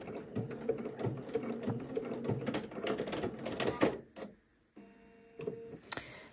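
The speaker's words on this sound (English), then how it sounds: "Then we're going to back and sew all the way across the belt loop backwards." A sewing machine stitches across a belt loop on a pair of pants, a close, rapid run of needle ticks in short bursts, with a pause and a few more clicks near the end.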